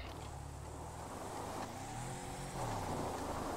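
A car engine in GTA 5 revs as the stuck vehicle fails to find traction, its droning growl rising and falling in pitch over a few seconds at moderate loudness.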